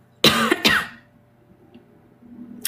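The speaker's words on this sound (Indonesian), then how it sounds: "Kok batuk ya?" Two sharp, close coughs with a rough throat-clearing edge come in quick succession, followed by a quiet room with a faint steady hum.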